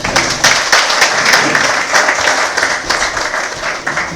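A conference audience at a United Nigeria Airlines B737-800 training event gives Mazi a round of applause, thick continuous clapping that stays loud and steady throughout.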